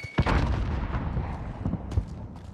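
A frag grenade bursts in a multiplayer shooter game, opening with a sharp booming blast and followed by a long rumbling decay, with a few smaller pops and thuds from continuing gunfire in the fight.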